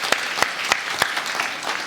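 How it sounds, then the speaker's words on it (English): An audience claps at a pitch competition event, a small room's worth of applause with a few sharp, distinct claps standing out over the steady patter. "Lolly, a big round of applause"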